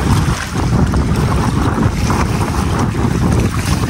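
Strong wind gusts buffet the microphone over open water at a reservoir during a carp fishing trip, a loud continuous roar with rushing, lapping water underneath and no speech.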